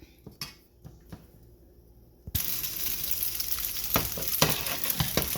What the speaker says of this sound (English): Now I'm going to add that to the frying pan with the chicken and fry that up a little bit